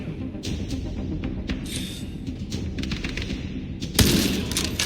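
Gunfire in the video game Tom Clancy's The Division Resurgence: rapid bursts of shots over a dense game soundscape, growing louder with a heavy blast near the end.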